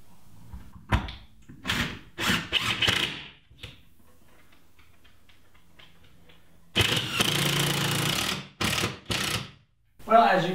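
A power drill drives screws down into plywood while workshop storage shelves for a ram pump are built, giving several short whirring bursts, then a longer, louder one near the end, with quiet gaps between them.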